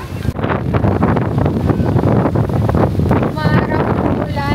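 Wind buffets the microphone at a beach in Ilocos Norte, a loud, gusty roar throughout with brief voices surfacing faintly near the end.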